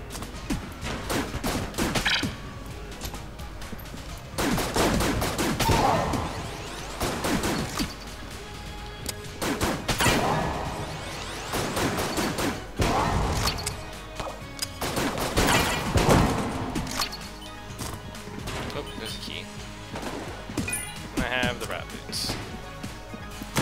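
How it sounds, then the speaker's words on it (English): Chaotic gunfire in the game Enter the Gungeon, a loud, dense run of repeated shots and crashing impacts in several bursts across the stretch, with a voice talking over parts of it. "This gun is pure chaos."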